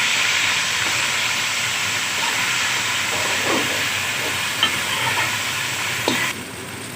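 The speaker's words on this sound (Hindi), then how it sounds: "और अच्छी तरह फ्राई कर लेंगे टमाटरों को।" Tomatoes with green chili paste frying in a pan, a steady close sizzle with occasional stirring scrapes and small pops, ending abruptly.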